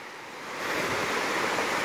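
Ocean waves wash onto a beach at night, a steady broadband rush that swells louder after the first half second and stays close and full, with no voices.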